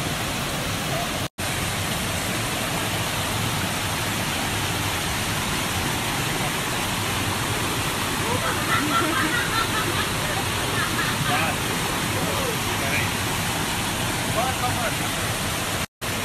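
A waterfall with crystal-clear water at the end of a forest trail in Paranapiacaba, São Paulo, roars as a loud, steady, close rush of falling water without a break.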